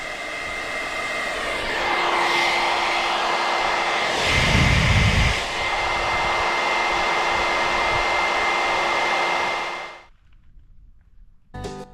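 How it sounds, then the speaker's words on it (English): Hair dryers rated at 1500 watts blowing steadily at full power off an OSCAL POWERMAX 6000 battery station, a loud continuous airy roar with a faint whine that swells briefly midway, then cuts off sharply near the end. "these hair dryers, look at that, 1500 watts is full"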